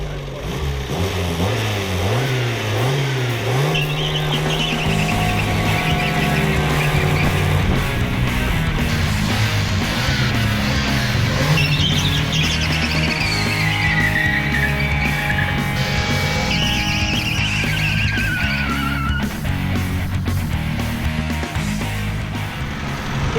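A Ford Festiva, its rear wheels chocked and its cooling system filled with beer, holds a sustained burnout: the engine revs hard under continuous rising and falling tyre squeal, loud and close for over twenty seconds, with wind noise and no speech.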